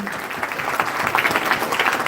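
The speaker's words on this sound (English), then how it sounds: "Let's give a big round of applause, ladies and gentlemen." Brief burst of clapping from an audience at an innovation challenge event in Goa, greeting an arriving state minister, moderately loud and close.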